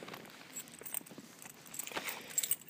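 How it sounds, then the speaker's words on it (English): Metal keys jangle and scrape in a quiet indoor space while a Legend of Zelda: Breath of the Wild game box is opened, producing a light, uneven jingle in short irregular bursts. "Gotta be nice and gentle with these keys"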